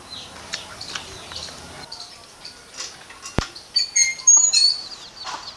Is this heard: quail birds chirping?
yes